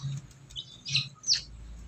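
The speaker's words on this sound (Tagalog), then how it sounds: "meron po akong maliit na ayun sisiw yun inaalagaan ko" A small chick kept as a pet gives three or four short, thin, high peeps spaced about half a second apart. They are faint and close, over a quiet background.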